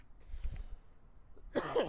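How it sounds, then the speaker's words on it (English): A single short, harsh cough bursts out close by after a few quiet, muffled sounds. "got a cough"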